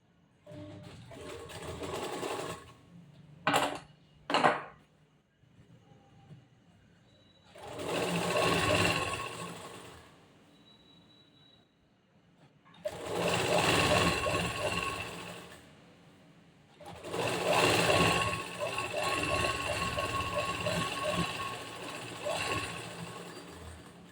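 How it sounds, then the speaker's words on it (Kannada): A sewing machine stitches a blouse's fabric and lining in several separate runs of rapid, steady mechanical whirring, with short sharp clicks and pauses between bursts. "ಇದ್ರ ಮೇಲೆ ಒಂದು ಹೊಲಿಗೆ ಹಾಕೋಬೇಕು ನಾವು"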